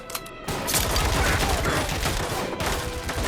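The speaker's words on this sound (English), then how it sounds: "Gunshot." Sustained gunfire in the video game Watch Dogs: Legion, a dense, loud burst of rapid shots that starts abruptly and continues almost without pause for about three seconds.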